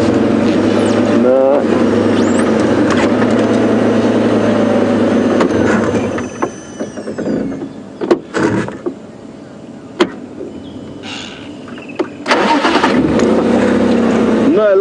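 A safari vehicle's engine starts up and revs on a game drive at Djuma Game Reserve, loud and close at first, then settling to a low idle with quieter stretches and clicks before the engine noise swells again.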